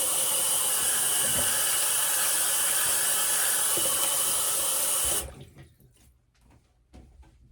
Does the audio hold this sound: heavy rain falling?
no